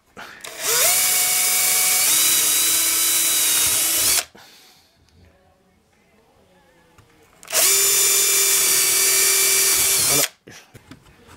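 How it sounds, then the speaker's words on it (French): A cordless drill with a hole saw cuts into wood in two long, loud, close bursts, each winding up and holding a steady whine, separated by a quiet pause. "Une fois que j'y suis, donc je perce."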